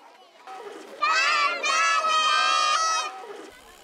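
A group of kindergarten children cheers together in loud, high-pitched voices as university staff shear a young sheep named Ichigo for the first time. The chorus swells, holds for a couple of seconds, then fades.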